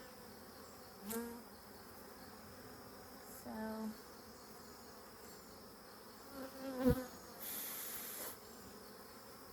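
Bees hum in a low, steady buzz during a hive inspection, close by, with a few louder passes of individual bees, a brief word and some hissy handling noise.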